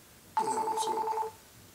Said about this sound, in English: Oh, I have a phone call.